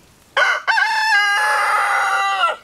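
A rooster crows once, loud and close, a long drawn-out call of about two seconds after a short opening note.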